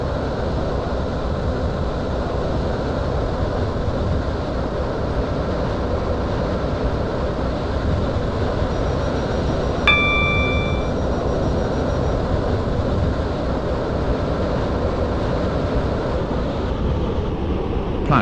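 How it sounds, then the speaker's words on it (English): A Class 730 train runs in the Roblox game SCR on a Waterline service approaching Benton: a steady, loud rumble of motors and wheels holds throughout, with a short electronic chime partway through. "This train is now approaching Benton."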